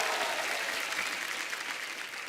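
A studio audience at a comedy talk show claps loudly and steadily for a ghazal singer's entrance, a thick wash of applause that holds throughout with no voices over it.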